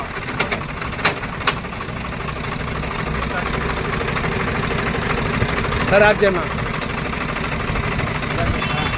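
Steady close rumble of a Swaraj 744FE tractor engine and gearbox running with the rotavator in neutral, a few sharp clicks early on, while someone speaks briefly over the noise.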